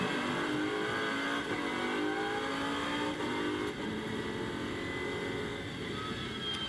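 Lamborghini Super Trofeo race car running at Zandvoort circuit during a race, a steady distant engine drone with shifting tonal whine, no voices.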